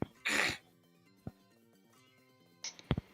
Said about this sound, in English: Sorry, clearing throat.